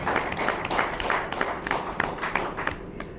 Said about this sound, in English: Let's give another huge round of applause.